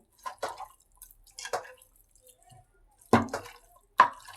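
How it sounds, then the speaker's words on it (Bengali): Raw beef being kneaded with spices by hand, wet squelching squishes arriving in a few separate bursts with short quiet gaps between them, close and fairly soft. "এখন মাংসটা হাত দিয়ে মাখা হয়ে গেছে"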